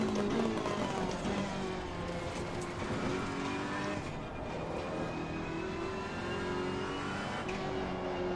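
Race car engine from the Assetto Corsa Competizione racing game during a test session at Spa, droning steadily with pitch rises and falls through gear changes and faint tyre noise, loud and continuous with no voice over it.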